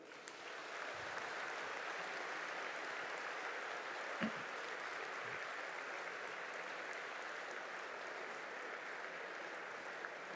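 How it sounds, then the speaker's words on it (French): A large hall audience at a Force Ouvrière union congress applauds steadily for about ten seconds, a dense, even patter of many hands heard from within the crowd. "Je vous demande de les applaudir à nouveau."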